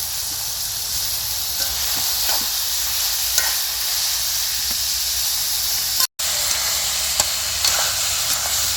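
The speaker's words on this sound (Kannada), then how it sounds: "ಇವಾಗ ಬೇಯಿಸಿ ಕಟ್ ಮಾಡಿ ಇಟ್ಕೊಂಡಿರುವಂಥ ಬ್ಲೆಡ್ಡು ಹಾಕ್ತಾಯಿದ್ದೀನಿ" Pieces of pre-cooked, cut goat blood are fried in a pan with onions for a village-style blood fry. A steady close sizzle runs throughout with light stirring scrapes and one brief dropout.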